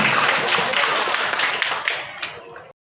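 An audience at a productive social aid handover for BUMDes Sembada Dharmaraja in Sumedang claps loudly, a dense wash of hands that tapers and cuts off near the end.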